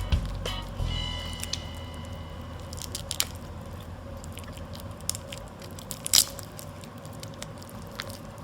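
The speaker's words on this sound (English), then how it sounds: "then all you have to do is take the shell off" Shell being peeled by hand off a tamarind glazed shrimp, giving soft, wet squishing and crunching sounds close up, with a sharper crackle near the end.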